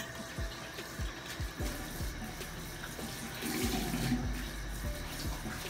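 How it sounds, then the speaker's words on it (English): Tap water runs steadily into a sink during face washing with raw African black soap, a continuous close splashing hiss with occasional small knocks, growing fuller midway. "I'm gonna wash my face with this."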